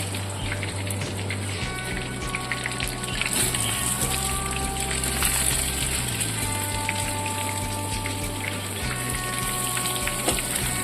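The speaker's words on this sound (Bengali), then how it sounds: "এবার এই বাকি সবজিগুলো ভেজে নিচ্ছি।" Vegetables frying in hot oil in a pan for a Bengali chhyachra with fish head, giving a steady, dense sizzle and crackle throughout, with a low hum underneath and no talking.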